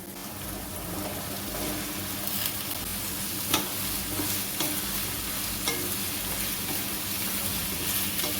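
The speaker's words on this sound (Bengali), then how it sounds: "এই সময় গ্যাসের ফ্লেমটাকে হাই করে লাল করে ভেজে নিতে হবে" Two large diced potatoes fry over a high gas flame for ghugni, giving a steady loud sizzle with occasional spatula scrapes and knocks against the pan.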